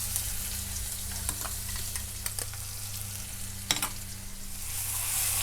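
Ginger paste and green chilli paste with cumin sizzle and fry in hot oil while being stirred, a steady close crackle with brief scraping clinks from the spoon and no talk.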